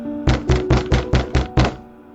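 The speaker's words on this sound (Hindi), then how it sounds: "अचानक उसके दरवाजे पर दस्तक हुई।" Seven even knocks on a door, loud and close, rapping at a steady rhythm for a horror story effect, then falling silent.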